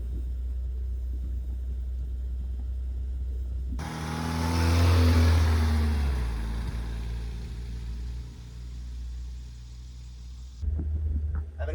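A long-stored barn find Fiat engine runs with a rough idle, a low uneven rumble that surges louder for a few seconds midway, then settles back into a steady chug before a brief burst near the end.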